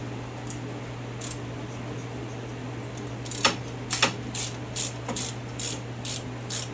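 A socket ratchet clicks in short bursts while tightening driveshaft bolts on a Jeep Wrangler TJ, first sparse then a quick run of sharp clicks over a steady low hum.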